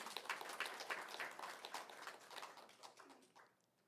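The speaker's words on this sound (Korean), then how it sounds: "박수 한번 주세요." Church congregation applauding during a Sunday worship service, a moderate patter of hand claps that holds steady before thinning out and fading in the last half second.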